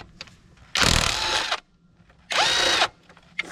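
A power tool whirs in two loud bursts, each about a second long with a pause between, as it removes 10 mm bolts from the alternator of a Ford F250, with small clicks and handling noises around them.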